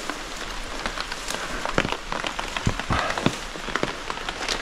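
Rain patters steadily on nearby surfaces at an abandoned house and barn, with irregular louder drips and taps mixed into a constant wash of falling water.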